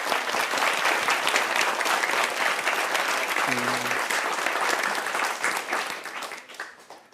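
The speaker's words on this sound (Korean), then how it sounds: "우리 박수 한번 하시죠" A lecture audience in a Korean talk show hall applauds for a teacher, dense sustained clapping filling the room for about seven seconds before tapering at the end; a brief low tone briefly sounds midway.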